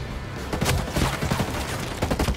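Rapid automatic gunfire in the video game Ghost Recon Breakpoint, a close, loud stream of repeated shots in a steady staccato rhythm, continuous for a couple of seconds.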